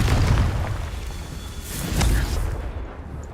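Confringo fire spell blasts in Hogwarts Legacy, heavy booming explosions with low rumble, a loud burst at the start and another around the middle, over constant game ambience.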